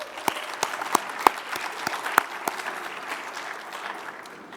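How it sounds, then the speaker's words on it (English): Applause from an audience at a UNICEF youth foresight launch event: a few seconds of scattered, moderately loud hand claps that thin out and fade. "So an applaud to all of them, please."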